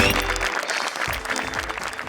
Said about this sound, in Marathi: मेकअप डिपार्टमेंट मधील अँथनी दादांसाठी जोरदार टाळ्या